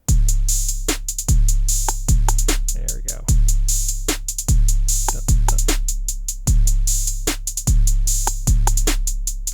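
Halftime drum pattern looped in Soundtrap: heavy kick-like hits with snares landing on a slow backbeat, steady closed hi-hat ticks and scattered rim shots, loud and repeating about every second and a half.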